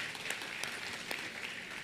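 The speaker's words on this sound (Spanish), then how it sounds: "Un fuerte aplauso para ella, por favor." Audience at a dental congress awards gala applauding a female endodontics lecturer, a steady dense patter of many hands clapping across the hall, with a few sharper individual claps standing out.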